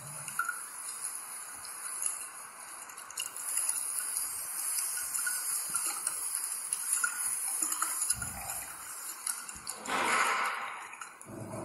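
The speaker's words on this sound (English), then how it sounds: "Add water to dissolve ceric ammonium nitrate." Water poured from a wash bottle or beaker into a 100 ml volumetric flask to dissolve ceric ammonium nitrate at a lab bench, a steady close trickle and gush running for several seconds with a brief louder splash near the end.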